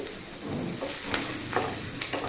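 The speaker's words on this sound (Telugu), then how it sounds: "కరివేపాకు కూడా వీటితో పాటే వేగించాలి" Curry leaves frying and sizzling in a pan, a steady close crackle with a few brief sharper pops as they hit the hot oil.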